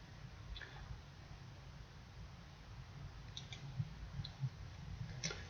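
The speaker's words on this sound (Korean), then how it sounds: "C 드라이브에 마우스를 대고 오른쪽 마우스를 해서 속성을 연 다음에 왼쪽으로 클릭을 하면서" A computer mouse gives a few soft, faint clicks in quick pairs and singles over quiet room hiss, while someone opens a drive's properties menu.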